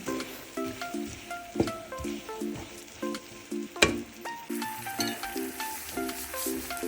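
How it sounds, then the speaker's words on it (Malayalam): Chicken curry masala sizzles in a pan while being stirred, with soft frying hiss, occasional sharp scrapes and clinks of a spoon, and light music playing throughout. "നന്നായിട്ട് ഒന്ന് ഇളക്കി കൊണ്ടേയിരിക്കാം"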